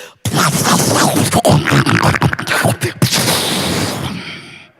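A voice imitates a whizzing rush with a loud, breathy, harsh hiss lasting several seconds, broken by a few quick choppy breaks.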